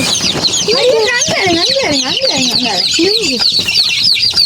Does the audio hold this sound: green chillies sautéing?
no